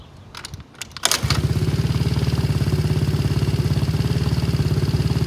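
A Taotao engine with its fan shroud removed cranks briefly, then catches and settles into a loud, steady, rapidly pulsing idle that runs alone at close range.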